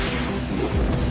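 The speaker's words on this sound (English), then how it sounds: "Airstrike." An airstrike attack in the video game Epic Battle Fantasy 2 lands as a dense, loud, sustained rumbling explosion filling the whole moment with booming low-end roar.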